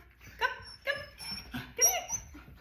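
A five-month-old mini Bernedoodle puppy gives a few short, high whimpers and yips in quick succession, close by and fairly quiet, with no talking over them.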